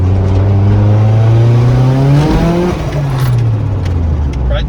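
A car engine fitted with a new turbo revs hard and close, its loud droning pitch climbing steadily, then dropping back and settling into a lower rumble.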